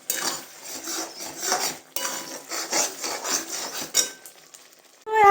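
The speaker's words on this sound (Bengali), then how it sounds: "এই দেখো মশলাটা কষছি" Chicken masala being stirred and fried in a home kitchen pan, with steady scraping and clinking of a utensil against the pan in repeated strokes, close and moderately loud, with no talk.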